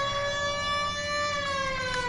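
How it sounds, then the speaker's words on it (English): Loud, close police siren in a video game, wailing steadily as a sustained rising-and-falling tone with no voices. "Turn on my siren."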